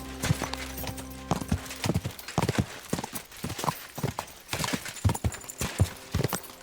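Horse hooves clip-clop in a quick, uneven rhythm over a steady low hum, with a few sharper thuds scattered through, in the video game Kingdom Come: Deliverance 2.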